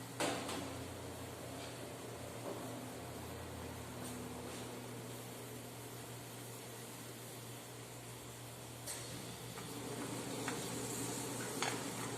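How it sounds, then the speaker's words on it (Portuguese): Finely diced brunoise onion sweating in a hot pan, a soft steady sizzle with occasional light scrapes and clicks of a utensil, close and continuous without talk. "E agora vou adicionar a minha cebola em brunoise. Vou deixar ela só suar até ficar transparente."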